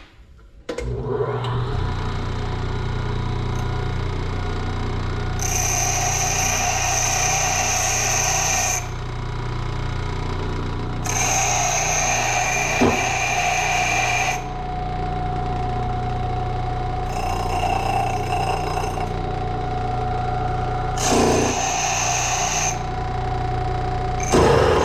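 A power tool sharpens a metal punch used for cutting cotton, with four grinding bursts of a few seconds each over a steady, close mechanical hum that runs throughout.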